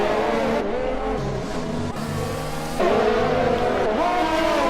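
Formula 1 cars in the racing game F1 2020 jostle for position at turn 3 of the Australian circuit, their engines whining at high pitch and shifting as they pass, with a louder surge near the end.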